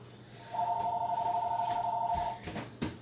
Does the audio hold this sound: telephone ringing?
yes